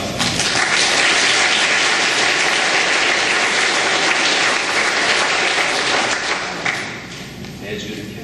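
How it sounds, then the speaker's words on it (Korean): A church congregation gives loud, dense applause after a worship team and chamber orchestra perform, a close, sustained wash of clapping that fades slightly near the end. "경례의 박수."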